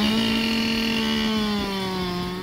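A chainsaw cuts through wood at a spring exhibition in Latvia, its engine a steady, loud, close drone with a strong harmonic whine that dips slightly in pitch under load near the end.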